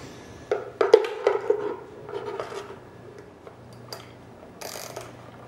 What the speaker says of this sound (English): Then you're gonna take your wrench.